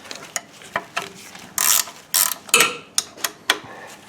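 Close ratchet wrench clicks work a 13mm bolt under a rear-wheel-drive car during a clutch replacement: bursts of rapid pawl ratcheting with isolated sharp clicks between, loud and near.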